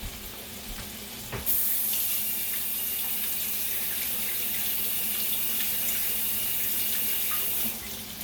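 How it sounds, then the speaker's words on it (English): A kitchen tap turns on and water runs steadily into the sink while hands are rinsed under it, a loud continuous hiss that stops near the end. "Let me rinse my hands off."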